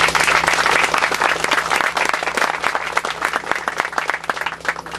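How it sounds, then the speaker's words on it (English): Loud, dense applause from a crowd at a school groundbreaking ceremony in Fernley, Nevada, sustained clapping throughout with no pause. "I believe they deserve a special round of applause"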